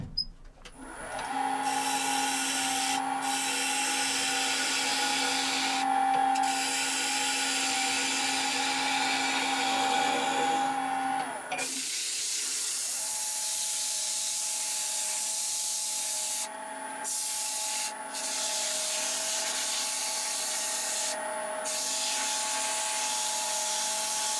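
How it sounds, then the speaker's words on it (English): A small wooden bowl spins on a lathe while being sanded, giving a steady, close rasping hiss over the motor's hum that runs almost without pause, briefly shifting in tone midway as the sanding pressure changes. "So after we get the bowl sanded down"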